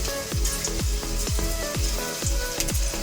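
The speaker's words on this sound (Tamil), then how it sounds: "எண்ணெய் நல்லா சூடாகிடுச்சு. ஒன்று ஒன்றா போட்டு நம்ம பொரிச்சு எடுத்துக்கலாம்." Meal maker chunks deep-fry in hot oil with a loud, close, steady sizzle. Bubbling crackles and repeated drops or splashes come every half second or so, and no one speaks.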